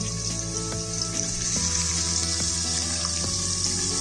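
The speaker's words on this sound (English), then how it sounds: "I'm also going to add in Cashewnuts and sliced onions. To hasten up the cooking process, I'm going to add in salt" Cashew nuts and sliced onions frying in a pan for Guntur chicken biryani, a close, steady sizzle with a few light scrapes and taps of stirring, heard alone without talk.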